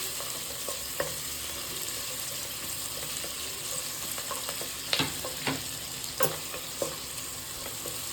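Onions sautéing in a pan for mushroom biryani, a soft continuous sizzle and crackle with occasional scraping stirs and clinks of a spoon, fairly quiet and steady throughout.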